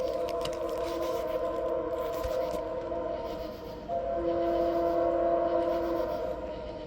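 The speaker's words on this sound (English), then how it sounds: "that is a very fouled horn" A fouled train horn blares in a long, steady, slightly harsh tone, over rumbling rail noise, with a second higher note joining partway through.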